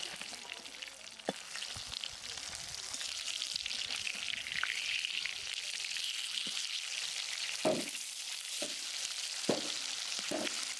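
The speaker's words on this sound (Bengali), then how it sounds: "মাছগুলো ওই পাশে খুব ভালো করে লাল লাল করে এরকম ভেজে নেবো" Pieces of carp fish fry in a pan with a continuous soft sizzle and crackle, joined by a few sharp clicks and spatters from handling the fish.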